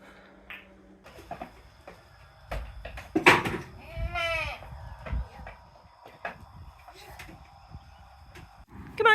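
Goats on a farm let out a few scattered bleats, one drawn-out and wavering, amid quiet footsteps and shuffling, with a person speaking softly nearby.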